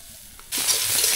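Snakehead fish sizzles in hot oil in a pan for a spicy fish curry. A steady, loud hiss bursts in suddenly halfway through and holds without letup.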